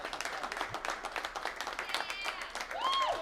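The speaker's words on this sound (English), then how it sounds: "One more round of applause for TJ, Bear, and the Newport Dragons." Audience applause at a sports league draft event, a continuous crowd of clapping heard somewhat distantly, with a few cheers and whistles rising toward the end.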